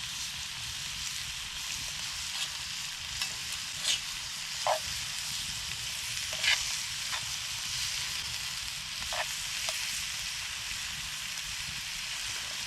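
Food cooking down in a pan, a steady soft sizzle running throughout with a few brief clinks and stirs, no talk.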